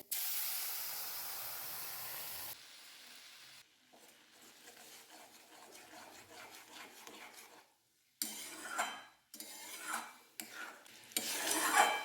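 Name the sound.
star fruit juice sizzling in hot oil with mustard seeds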